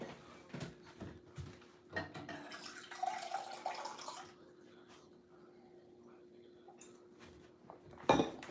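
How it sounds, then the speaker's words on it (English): Water runs from a tap into a glass in a short filling burst midway, with a person talking before and after. "Let me get some more water."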